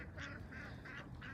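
Ducks in a park give four evenly spaced, nasal honking calls, faint against a steady low background rumble.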